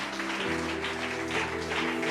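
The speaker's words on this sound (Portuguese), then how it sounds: "Dá um aplauso para Jesus" A church congregation applauding during a worship service, a dense wash of clapping with sustained organ or keyboard tones running underneath.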